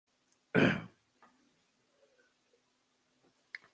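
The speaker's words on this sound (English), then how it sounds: "Let me cough." A single sharp, harsh cough up close, followed by near silence with a few faint small clicks and a soft rustle at the end.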